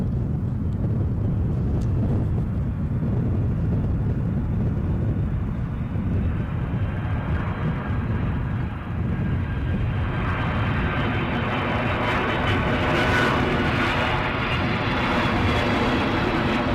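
A Delta airliner flies at Edinburgh airport on a gusty day, its steady broadband engine roar sustained and loud throughout, swelling slightly toward the end amid wind noise.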